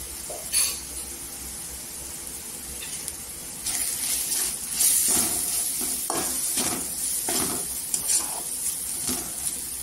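Whole masoor lentils with homemade spice masala sauté in oil, giving a steady sizzling hiss broken by repeated spatula scrapes and stirs. The stirring grows busier partway through and stays close, with no talking.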